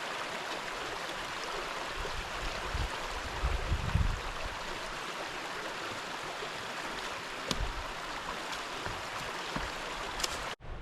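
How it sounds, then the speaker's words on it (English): Justus Creek on the Appalachian Trail: a steady, broadband rush of flowing stream water fills the scene, with a few soft thumps and clicks nearby. "So that was Justus Creek, right there we just crossed over."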